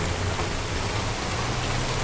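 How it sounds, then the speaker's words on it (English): A rainstorm outside makes a steady, even wash of rain noise that holds for the whole moment, moderately loud and continuous with no voices over it. "You got a nice rainstorm outside."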